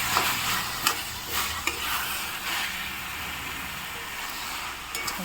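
Chickpeas, tomato and potatoes stirred while frying in a pan, a steady sizzle with scraping spatula strokes every second or so, close and continuous with no talk.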